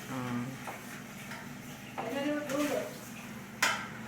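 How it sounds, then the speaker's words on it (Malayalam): A spoon stirs milk in a pot on the stove to keep it from curdling, giving faint scraping and clinking against the metal, with a sharper clink near the end, under quiet background voices. "പാല് തിരിഞ്ഞ് പോകാതിരിക്കാൻ വേണ്ടിയിട്ട് നമ്മളിങ്ങനെ ഇളക്കിക്കൊണ്ടേയിരിക്കണം"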